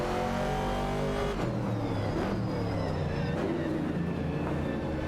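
Video-game racing cars, a Ford Mustang Boss and a Chevrolet Camaro, as a loud continuous engine roar with shifting tones and revs, dense and unbroken throughout.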